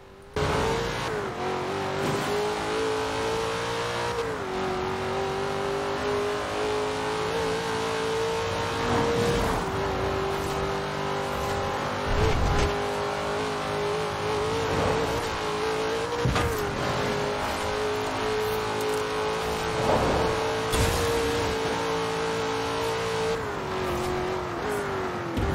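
A Holden HQ Monaro GTS 350 V8 in Forza Horizon 4 drift build revs loud and close through a sustained top-speed run, its engine tone climbing and dropping with gear shifts.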